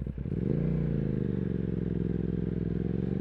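An Aprilia RS660 motorcycle engine drones steadily on a night ride through Belgrade, a loud close growl that swells briefly as it revs up before settling into a constant hum.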